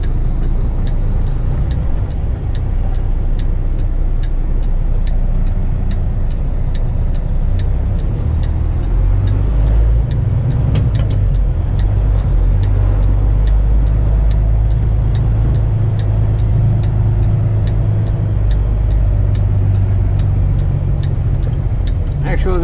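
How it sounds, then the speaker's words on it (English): A heavy truck hauling an 86,000 lb CAT 627G scraper on a truck route near Bolton, Ontario, its engine a loud steady low drone with a constant ticking running through it. "Actually, the truck pulls pretty good."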